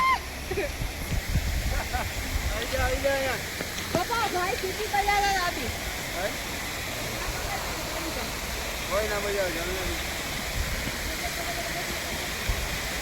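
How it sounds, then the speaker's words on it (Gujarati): Mountain waterfall near Manali pours in a steady broadband rush, fairly close, while several people talk and call out excitedly over the falling water throughout. "આમ તો જો ઝરણા પડે"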